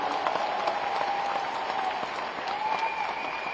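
Audience at a Hindi poetry recital (kavi sammelan) in Raipur applauds after a sung poem, a continuous crowd of clapping hands, moderately loud, with a faint lingering tone beneath.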